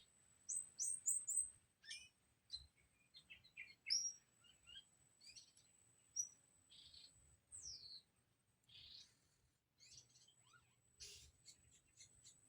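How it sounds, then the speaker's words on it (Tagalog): Several birds chirp and tweet in quick, overlapping bursts, some calls high and whistled, fairly faint against a quiet background. "Daming ibon."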